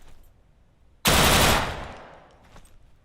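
A weapon discharges in one loud, sudden burst of rapid fire in the Deadside game. The blast fades into a reverberant tail, and there is no talking.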